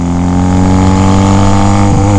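A Honda motorcycle, a discontinued small model, rides along with a steady, loud engine drone and even harmonic tone throughout, slight pitch shift near the end.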